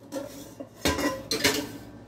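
Metal pots and a skillet clank and clink together as they are handled to stir-fry celery, onion and meat for a soup, with two louder clattering bursts over quieter rattling, close by and with no talk.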